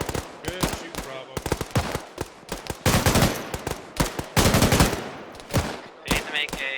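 Machine gun fire in a military video game during a realism unit training session comes in repeated short, sharp bursts with brief pauses between them, loud and close.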